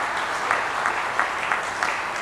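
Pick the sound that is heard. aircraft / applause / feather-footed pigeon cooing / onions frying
applause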